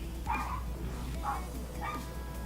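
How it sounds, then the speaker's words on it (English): Dogs bark in another room of a house, three short muffled barks spaced about a second apart, faint and distant over a low background hum. "I'm sorry if you guys can hear my dogs barking."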